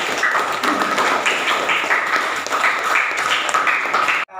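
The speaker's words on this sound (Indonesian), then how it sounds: "Coba tepuk tangan lagi untuk semuanya." A classroom of students claps together, a dense, steady patter of many hands that keeps going at an even loudness for about four seconds and then cuts off abruptly.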